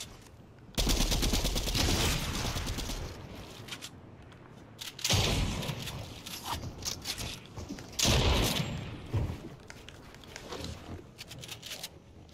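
Fortnite gunfire, including sniper fire, sounds as three loud bursts about three seconds apart. Each bursts sharply, then trails off into rattling, quieter game noise.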